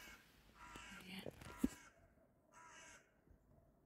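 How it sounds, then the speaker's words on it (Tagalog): A crow caws twice, fairly distant and faint, the second call shorter, with quiet background murmur, in the Stibbert Museum park in Florence. "Sus, may uwak"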